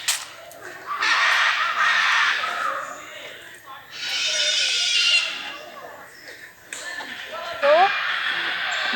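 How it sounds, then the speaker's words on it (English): Harsh crow-like caws and assorted bird and animal calls at Darjeeling zoo, coming in loud overlapping bursts separated by quieter gaps, with a final rising call near the end. "Just listen to the beautiful sounds, the cacophony of different animals"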